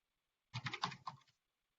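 Numbers typed on a computer keyboard, a brief quick run of about eight close keystrokes in a rapid cluster, clear and isolated against silence.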